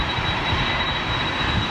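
A jet airliner powered by Rolls-Royce Trent engines gives a steady, broad roar at an airport, loud and unbroken, with no voices over it.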